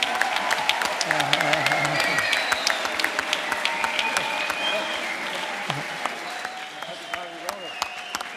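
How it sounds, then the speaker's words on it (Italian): A seated audience at a sea and climate summit applauds the speakers, with sharp individual claps standing out over a broad clapping wash and voices talking through it, tapering slightly near the end. "vi prego di fargli un grande applauso"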